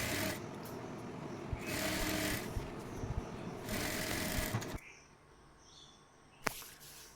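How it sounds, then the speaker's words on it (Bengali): A sewing machine stitches the folded hem of palazzo pants, running in steady whirring bursts for several seconds, then stopping, leaving a quiet room with a single click. "একই রকম অপর পায়ের দিক থেকেও সেলাইটি দিয়ে নেব।"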